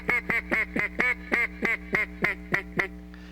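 A duck call imitates hen mallard quacks in a steady descending series of about eleven loud, close, evenly spaced nasal quacks, with no talking.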